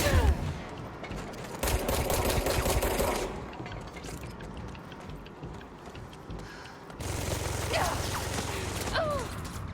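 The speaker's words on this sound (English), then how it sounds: "spin is the automatic rifle gun. The SMG." An SMG automatic rifle firing in the video game Control, heard as rapid, dense bursts of shots in two long stretches with mechanical clatter between them, fairly close and loud.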